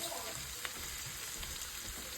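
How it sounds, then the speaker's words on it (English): Bratwurst sausages sizzle in a pan, a steady close frying hiss with faint crackles and a soft stir or two, no voices over it. "put my sausage back in here and let them kind of cook a little bit"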